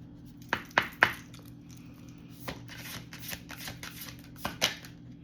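A deck of oracle cards is shuffled by hand. Several sharp riffling bursts come first, then softer card slides and taps, close and fairly quiet.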